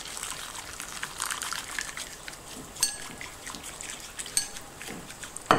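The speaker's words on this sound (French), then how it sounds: "Et on vient verser l'eau des pâtes" Hot pasta water poured onto ramen soup powder in a bowl, a soft, quiet trickle and splash with a few light clinks of dishware, fairly close but faint.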